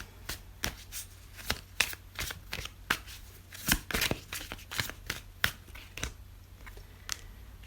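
Oracle cards are shuffled by hand close by, a run of crisp riffling flicks and soft slaps repeating irregularly for several seconds, with no voice.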